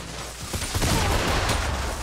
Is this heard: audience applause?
no